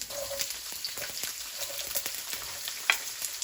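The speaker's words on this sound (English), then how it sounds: "let's go ahead and fry up our onions and all those ingredients" Onions fry in a pan with a close, crackling sizzle, dense with small pops and spits and a few sharper snaps, steady throughout and heard without any talk.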